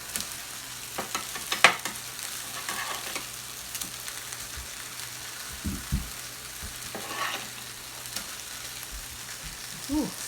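Veggie burger patties fry in a pan with a steady, soft sizzle and crackle, broken by a few clacks and scrapes of a utensil, with no talking.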